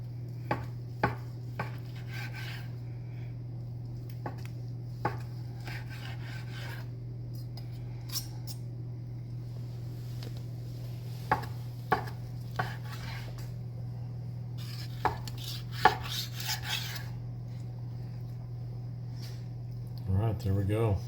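A knife slices through cooked pork tenderloin on a cutting board that slides around, giving scattered scraping and tapping strokes over a steady low hum, with louder rasps near the end.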